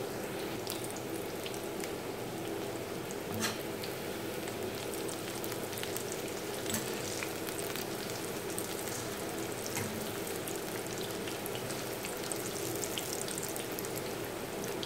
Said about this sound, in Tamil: பொரிக்கிறதுக்கு கடலை எண்ணெய் தான் ஊற்றிருக்கேன்.